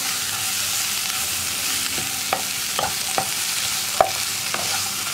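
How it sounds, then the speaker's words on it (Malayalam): Cabbage being stirred into egg masala in a pan for a cabbage egg stir fry, a steady sizzle with a handful of sharp spatula scrapes and clicks spaced through it, close and fairly loud, no talking. "ക്യാബേജ് ചേർത്തിട്ട് നന്നായിട്ട് ഇളക്കി മിക്സ് ചെയ്യാം."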